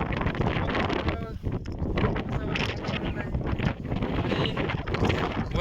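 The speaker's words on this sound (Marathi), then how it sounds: "वारं खूप सुटलं त्याच्यामुळं आवाज येणार नाही आहे" Strong wind buffets the microphone on the ramparts of Ghangad fort in the Sahyadri hills, a constant loud roaring rush through the whole clip with only brief dips.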